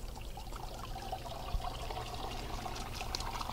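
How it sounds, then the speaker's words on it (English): Water from a low-pressure hose washes an air filter from the inside out, a steady splashing trickle and pour that runs without pause at a faint level, close by. "Now we're going to take a low pressure hose and wash the filter from the inside out."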